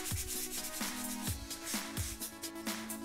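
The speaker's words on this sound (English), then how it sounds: "I could use a little bit of sandpaper." Sandpaper lightly rubbing across paper while a paper-leather journal is being made, soft scratchy strokes repeating in a quick, fairly even rhythm, close and quiet.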